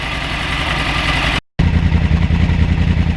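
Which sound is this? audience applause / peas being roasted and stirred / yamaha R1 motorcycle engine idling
yamaha R1 motorcycle engine idling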